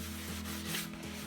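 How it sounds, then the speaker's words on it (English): Steady close rubbing of fine sandpaper over a laser-cut wood piece, a continuous dry scratchy hiss with slight back-and-forth surges and no voices. "the fine sandpaper works just as well, and it doesn't give too harsh of a sanding"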